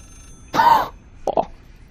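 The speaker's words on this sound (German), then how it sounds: "scheiß Telefon! Das ist ja kein Telefon, das ist ja nur ein Hörer" A telephone rings in the horror video game Layers of Fear with two short, close electronic trills, one longer and one brief and doubled, against near silence.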